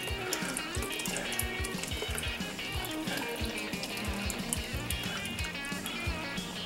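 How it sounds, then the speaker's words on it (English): Liquid from a can of whole peeled tomatoes pours steadily into a container, a continuous splashing gurgle with rhythmic glugs, close and fairly loud, no talking. "I'm going to pour all the liquid in first."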